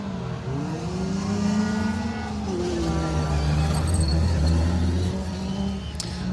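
A Suzuki Swift Sport rally car, car 104, on a stage of a circuit rally, its engine revving and accelerating nearby for several seconds with rising and falling pitch as it passes.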